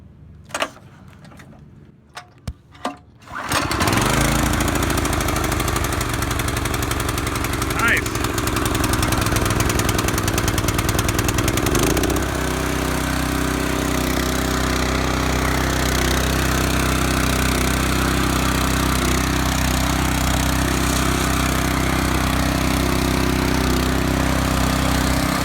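A Predator 6.5 HP 212cc engine fitted to a Sears rototiller is cranked with a few pulls, then catches and runs steadily, loud and close, settling into a lower idle partway through.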